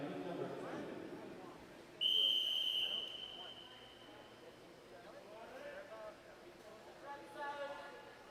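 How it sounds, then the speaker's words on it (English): A single bright whistle blast starts a boys' high school swimming race at a regional prelims meet, heard about a second long over an echoing natatorium crowd and a commentator's voice. "there's the whistle"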